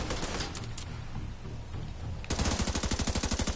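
Gunfire in the video game Tom Clancy's The Division 2 during a White House attack: murky game ambience, then a sudden, loud burst of rapid automatic fire, evenly spaced shots rattling on to the end.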